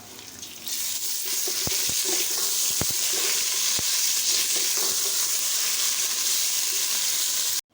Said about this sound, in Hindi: मैं इसमें शामिल कर रही हूँ लहसुन अदरक का पेस्ट।